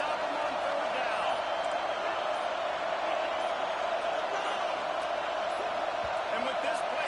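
Loud, steady roar of a college football stadium crowd during a big third-down play, a dense wall of noise that stays constant and close throughout with no breaks.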